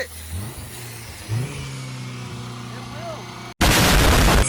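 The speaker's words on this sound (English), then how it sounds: "Stuck. The throttle's stuck." A car engine with a stuck throttle revs up in loud surges, rising and holding high, then cuts to a sudden burst of harsh noise near the end, with voices around.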